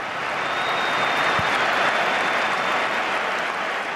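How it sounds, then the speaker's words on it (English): Real Madrid fans at the Bernabeu Stadium applaud a rival Barcelona player, a dense, steady wash of stadium clapping and crowd noise throughout. "So good, even Real fans applauded."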